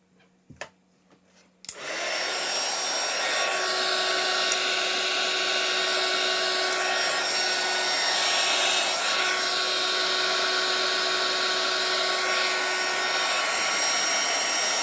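A hair dryer blows steadily over a watercolor pencil painting, switching on after a couple of seconds of small handling knocks and then roaring close and loud with a constant airy whine to the end.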